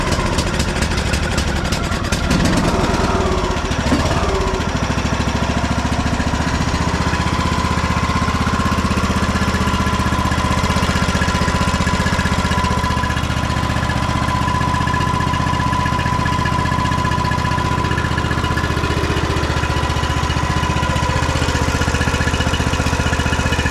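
A John Deere tractor engine that had blown up and is smoking off oil runs at a steady idle, a loud, continuous low rumble with a rough knocking edge throughout, after some clattering at the start.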